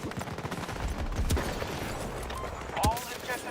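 Battlefield gunfire sounds as a few sharp cracks, the loudest near the middle and near the end, above a rumbling battlefield din with talk in the background.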